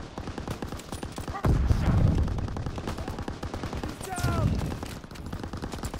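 Automatic gunfire in the shooter game War Rage: a rapid, steady rattle of shots running through the whole stretch, with heavier bursts and booms layered in partway, fairly loud and close.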